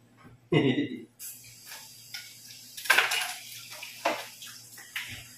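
Dishes and utensils being washed in a home kitchen, with clinking pots and cutlery, bursts of running water and clattering between quieter moments, plus faint background voices.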